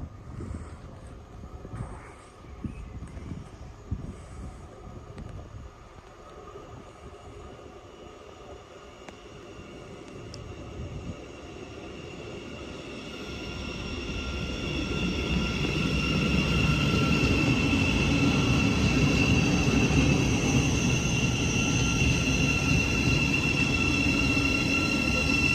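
A 12-coach Class 700 electric train draws into a station and pulls away again, its rumble and wheel squeal growing from faint to a loud, steady roar with high whining tones near the platform.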